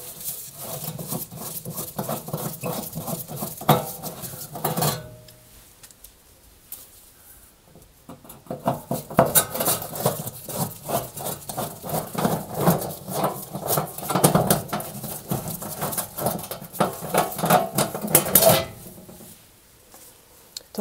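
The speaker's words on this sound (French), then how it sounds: "je vais dévisser les quatre vis ici et retirer la plaque pour accéder au fond de l'appareil" Metallic clinks and scraping of screws being undone and a metal plate lifted out of a range-style cooker oven, busy rattling handling noises with a short quieter pause midway, close by.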